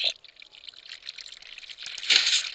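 Water flowing through a mob grinder built in Minecraft, a steady soft trickle and pour that swells louder near the end, with no voices over it.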